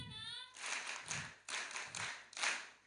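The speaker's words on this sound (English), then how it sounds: "Can we clap for that?" Audience at a live community and school gathering breaks into several bursts of clapping in quick succession, each surge of claps rising and fading, fairly close and full.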